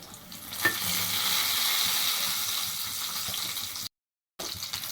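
Small shallots dropped into hot oil and stirred while making a drumstick-leaf soup, giving a steady, close sizzling and frying hiss with occasional scrapes of stirring.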